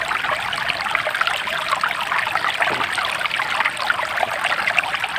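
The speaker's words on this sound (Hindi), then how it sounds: "पानी की आवाज़ सुनिए कितनी प्यारी आ रही है।" Steady trickling water runs through a pipe outdoors in the late afternoon, a continuous bright babbling stream of flow with no pauses and no voices.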